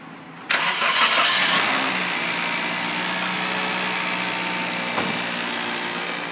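A 2007 Toyota Corolla engine cranks briefly and catches, then settles into a steady idle heard close with the hood open, holding an even hum after a faint click.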